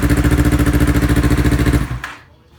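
A Yamaha R3 motorcycle fitted with a new exhaust muffler, engine loud and close, pulsing steadily at high revs before cutting off abruptly and fading to quiet near the end.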